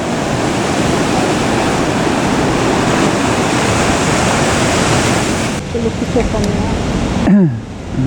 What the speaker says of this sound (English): these waves are breaking quite impressively all the way along the seawall